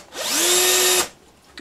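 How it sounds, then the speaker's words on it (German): A power drill fitted with a 5 mm bit spins up with a rising whine, then drills for just under a second with a loud, steady high-pitched buzz before cutting off, heard alone at close range. "Gut, Bohrmaschine oder Akkuschrauber. Setz das jetzt hier an. Hier ist mein 5 mm Bohrer drin."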